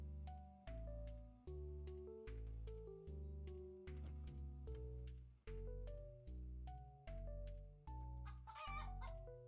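Steady run of chicken clucks and rooster-like calls from a farming video game, dense and continuous with layered tonal squawks and no talking.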